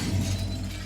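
Glass shatters in the video game Little Nightmares, a loud, sustained crash and tinkle filling the whole moment with no talk over it.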